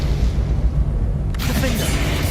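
A Confringo fire spell in Hogwarts Legacy goes off with a sudden bright blast midway through, over a constant low rumbling game soundscape.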